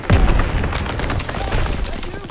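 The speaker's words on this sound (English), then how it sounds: "Gunfire! It must be near our guys." A loud burst of gunfire in a video game set in the 1944 Battle of Hürtgen Forest, with a heavy boom at the start, followed by rapid cracking shots and rumbling echoes.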